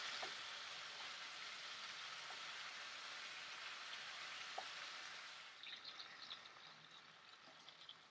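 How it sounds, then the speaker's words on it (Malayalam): Chicken pieces frying on a high flame for Peshawari chicken karahi, a dense, even hiss of sizzling oil that softens and crackles more sparsely near the end. "അതിലേക്ക് ചിക്കൻ പീസസ് ഇട്ട് കൊടുക്കാം. ഇതൊരു 5 മിനിറ്റ് ഫ്രൈ ചെയ്തെടുക്കാം"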